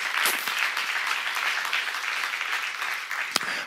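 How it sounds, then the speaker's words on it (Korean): A church congregation claps together during a Korean sermon on Genesis, a moderately distant, fairly even round of applause that thins out toward the end, with a couple of sharper individual claps standing out near the close. "박수 하세요."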